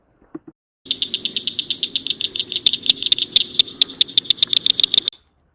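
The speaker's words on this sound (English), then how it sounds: "a cricket frog" Cricket frog calling in a rapid series of sharp clicking notes that speed up and grow louder, preceded by two faint isolated clicks, close and clear with no other sounds.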